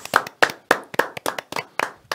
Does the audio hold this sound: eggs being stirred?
no